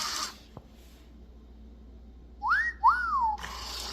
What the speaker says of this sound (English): Iconic whistle.